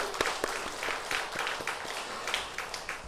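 A congregation at a Korean university church's Sunday service claps together during a 14th anniversary celebration, quiet and somewhat distant, with individual claps audible in a loose rhythm.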